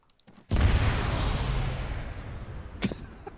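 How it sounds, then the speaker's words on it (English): A Dragon 2 demolition charge detonating, a single sudden loud blast with a long rumbling decay and a faint secondary crack near the end. "Dragon 2 detonating."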